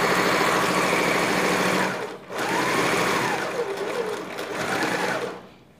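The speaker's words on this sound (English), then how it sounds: "So right now I want to start sewing the first shoulder." A sewing machine runs steadily while stitching the shoulder seam of a dress, with a loud, continuous whirring drone, a brief pause near the middle, then resuming before slowing to a stop.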